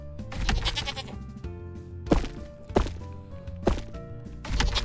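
Goat bleats in a video game about gunslinging horses, several loud wavering cries repeating in quick succession with thuds between them, no talk.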